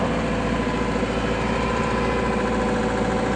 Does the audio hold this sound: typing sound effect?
no